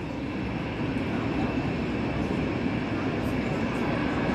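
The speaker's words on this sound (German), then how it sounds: "Oh Gott, da fliegt doch das erste Flugzeug weg." A Finnair airliner taking off at Hamburg airport, a loud continuous roar of jet engines heard from outside, steady throughout with a faint voice in the background.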